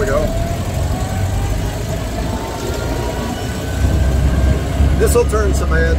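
A 1931 Ford Model A Roadster engine runs steadily and close up on the road, with a shift partway through and the engine note rising afterward. Someone talks over it throughout.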